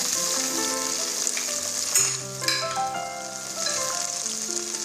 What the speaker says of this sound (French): Maintenant, je mets l'oignon.